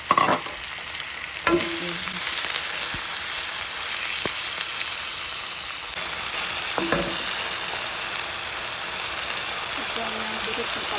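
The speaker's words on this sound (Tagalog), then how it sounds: "Pag nag-brown na ang chicken." Chicken for a chicken curry frying in a pan gives a steady, close, rain-like sizzle throughout, with a few sharp clatters of a utensil and a brief spoken word near the start.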